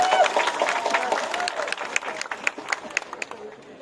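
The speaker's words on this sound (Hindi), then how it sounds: "थोड़ा जोर से ताली मारी।" An audience at a Tripura community gathering claps in a dense burst that gradually thins out, with voices audible over the clapping.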